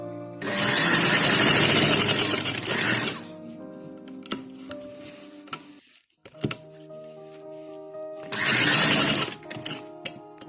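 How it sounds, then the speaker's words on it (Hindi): Two loud bursts of a sewing machine stitching a kurta neckline, a long run at the start and a shorter one near the end, with quieter handling clicks and pauses in between. "अब हम सिलाई लगाते हैं इस साइड पे भी, गले की दूसरी साइड पे भी हम सिलाई लगा लेंगे।"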